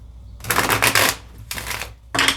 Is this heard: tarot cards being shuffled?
yes